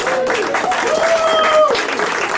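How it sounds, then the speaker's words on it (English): Audience applause for William Covington at a live Nashville radio show, steady clapping under a whistling, wavering tone and some crowd voices. "Give William a big clap, all right?"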